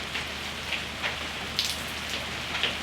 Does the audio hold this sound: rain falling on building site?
yes